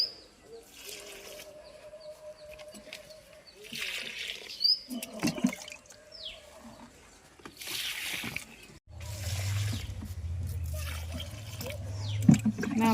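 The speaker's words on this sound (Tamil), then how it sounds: "ஸ்ப்ரே பண்ணாமல் அப்படியே தண்ணியாகவே செடிக்கு கொடுக்குறேன்" Paste-water solution is poured from a container onto potted rose plants, giving intermittent splashing and trickling with light knocks, and a steady low rushing flow toward the end; birds chirp faintly in the background.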